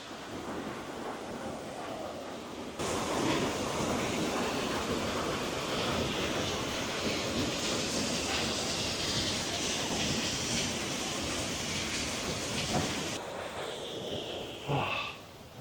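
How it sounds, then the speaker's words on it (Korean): Cheonjiyeon waterfall on Jeju Island rushes with a broad, steady roar that starts abruptly and holds evenly for about ten seconds before cutting back to quieter surroundings. "자, 천지연 폭포에 도착했습니다."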